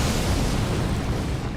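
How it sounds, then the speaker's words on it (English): A spell explosion in Elden Ring, an area-of-effect blast cast by a Star Caller class in the Converge 3.0 mod, roars as a loud, dense rumbling burst that stays heavy and sustained for the whole moment. "Right, explosion."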